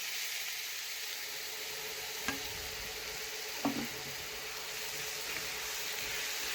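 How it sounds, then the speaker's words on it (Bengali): Grated mango hitting hot oil in a pan for a pickle gives a steady, fairly quiet frying hiss throughout, with a couple of brief clinks or knocks from stirring. "এখন গ্রেড করে রাখা আম তেলের ওপরে দিয়ে দিলাম।"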